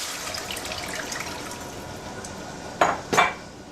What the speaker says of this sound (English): I am going to add 4 cups of water to this